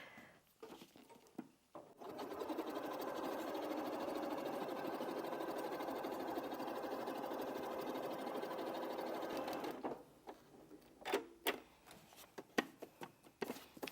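Domestic sewing machine stitching steadily along a paper-pieced quilt seam for about eight seconds, a close continuous mechanical whir, framed by brief handling clicks before and scattered taps after it stops.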